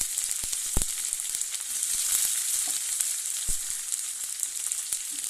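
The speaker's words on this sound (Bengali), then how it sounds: "এবার তেলে দিয়ে দিব কালো জিরে, তারপরে দিব পেঁয়াজ কুচি আর লঙ্কা চিড়ে দিলাম" Chopped onion and green chilli sizzle in hot oil with black cumin (kalo jeere), a steady bright hiss with a few sharp pops and stirring clicks, close and continuous with no talk.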